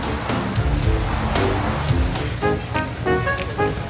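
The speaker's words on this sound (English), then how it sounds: "Powerful waves and foaming surf seem to protect the islands" Powerful sea waves and foaming surf break around rocky Chilean islands in rough water, a loud continuous rushing wash with surging swells, heard up close with no voices.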